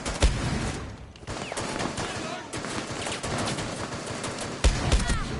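Rapid video game gunfire crackles in loud, repeated bursts, with a voice talking faintly beneath the shots and a sharp impact near the end.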